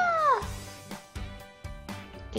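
Cat meowing in the video game Mini World, one clear rising-falling meow up front followed by a few soft thumping game effects, with no talk.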